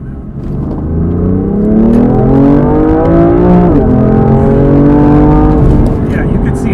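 A BMW F80 M3 accelerating hard in a straight line, the engine note climbing loudly through the revs, dipping briefly at a gear change, then rising again, heard close from inside the car.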